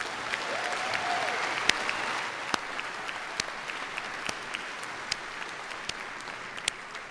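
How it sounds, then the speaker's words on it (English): Applause from a commencement audience cheering graduates at SUNY Oswego, a steady, fairly distant wash of many hands clapping that holds throughout, with a few sharper individual claps standing out. "Another warm round of applause for all of them."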